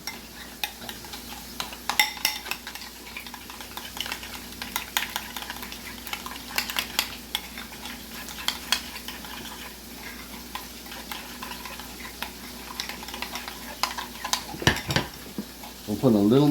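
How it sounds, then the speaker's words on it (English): A spoon stirs a sauce mixture of ketchup, mustard and garlic in a bowl, giving soft scraping with scattered light clinks against the dish, steady and close throughout. "I'm gonna mix this together."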